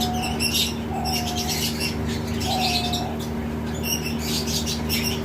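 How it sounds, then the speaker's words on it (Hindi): A diamond dove, a male with its tail raised, coos in a rooftop aviary among Java sparrows, lovebirds and budgies; soft repeated tonal calls stand against a steady hum, with busy chirping from other small birds throughout. "डायमंड डव है, इसकी मैं आवाज़ सुनाता हूँ आपको"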